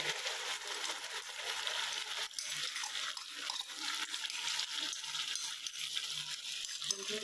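Tomato, onion and chili paste fries in hot oil with ginger and garlic, giving a steady close hiss of sizzling with small scattered clicks and taps, and no one speaking.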